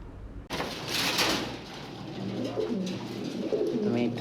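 A male Lahori pigeon coos beneath a pot in soft, repeated, throaty rolling calls, close by and fairly quiet, following a brief knock at the start.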